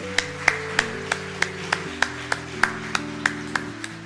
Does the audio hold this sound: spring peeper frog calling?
no